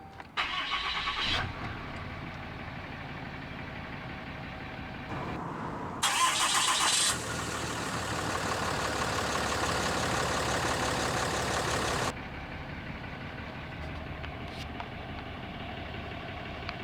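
A 2017 Ram 2500 Big Horn crew cab with a 6.7L Cummins diesel cranks briefly, fires loudly into a roar, then settles into a steady, close, rumbling idle.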